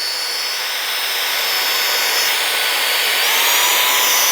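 A Saker 3 in 1 cordless vacuum blows on its low setting, producing a loud, continuous high-pitched rushing whine that stays steady and swells slightly toward the end.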